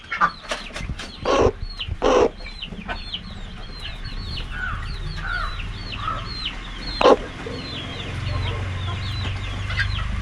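Native speckled crossbred chickens on a farm cluck and call repeatedly, close and distinct, with a few sharper squawks early on and a low hum building in the background.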